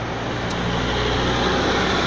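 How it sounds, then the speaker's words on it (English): A semi truck roars past at close range on a downtown street, a loud, sustained broadband rumble that swells slightly toward the end. "another truck coming, another semi, huh?"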